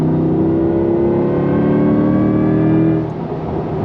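A 2024 Chevrolet Corvette E-Ray hybrid sports car engine revs loud and close, a rising harmonic roar that holds strong for about three seconds before easing off.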